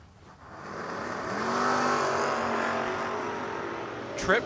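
Drag racing cars, a vinyl-top Camaro and a 1979 Monte Carlo, roar loud and close at the line, engines swelling with rising pitch for several seconds before a sharp burst at the end.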